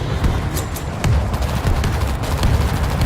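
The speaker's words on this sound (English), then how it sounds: "Guns dry. Grenade out." Gunfire and a grenade blast in the zombie shooter World War Z: a dense, continuous rattle of rapid shots with heavy low rumble, loud and sustained, with no talking.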